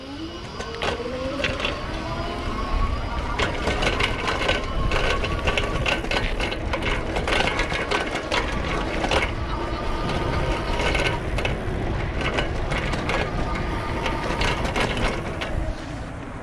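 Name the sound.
rattling of electric bike fenders while riding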